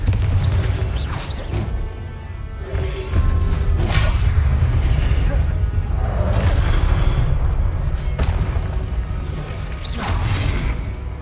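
Repeated Confringo explosion spell effects: a series of booming blasts and whooshing bursts that rise and fall across the stretch, loud and close, with a continuous rumble underneath.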